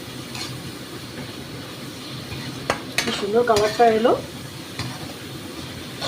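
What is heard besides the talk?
sautéing spice paste with prawns and taro stems in a pan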